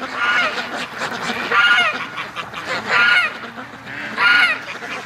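Several loud, honking duck quacks come in bursts, about four calls spread evenly, close by, over a faint background hum.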